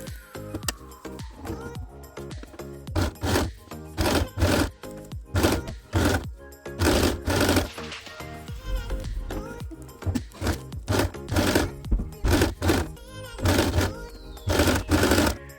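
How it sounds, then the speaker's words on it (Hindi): A sewing machine stitches the lining of a fabric zipper pouch: rapid mechanical chattering bursts start and stop in an irregular rhythm, with thuds and handling noises between runs, all close and fairly loud. "अब इसकी सिलाई करना स्टार्ट करेंगे"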